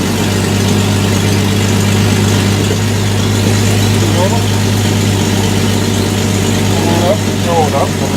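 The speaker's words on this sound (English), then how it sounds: "Oh man, I got a good exhaust leak. Must have cracked our header finally." A Jeep engine idles with an exhaust leak from a cracked header, a steady loud low drone with a constant pulsing hum, and short squeaks near the end.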